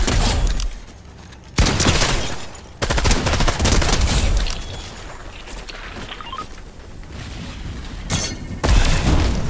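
Gunfire in the Fortnite video game: repeated close, loud bursts and single shots crack and boom at irregular intervals amid a constant roar of battle.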